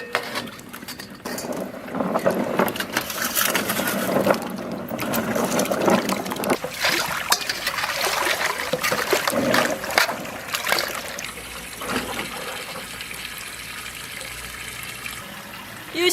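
Food soaked overnight is rinsed by hand in a basin of water for a Lunar New Year dinner in northern Shaanxi, with steady splashing, sloshing and dribbling close by and no speech.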